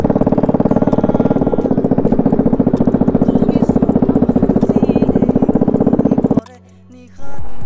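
A motorcycle with a broken bend pipe blares a loud, rapid, raspy exhaust rattle while riding in fourth gear on a roadside, a fast steady pulse that cuts off abruptly near the end, with talk over the engine noise.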